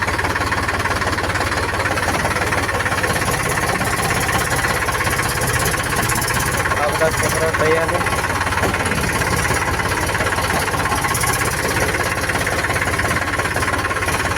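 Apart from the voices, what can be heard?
tractor engine idling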